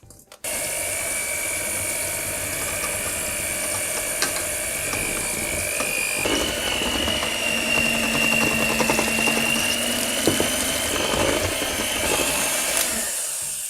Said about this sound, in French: je vais laisser tourner le robot à petite vitesse et je vais ajouter tout ça lentement